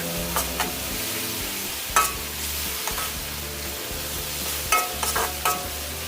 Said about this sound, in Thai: ผัดอีกเล็กน้อยนะคะ เพื่อให้หอมกลิ่นเต้าเจี้ยวค่ะ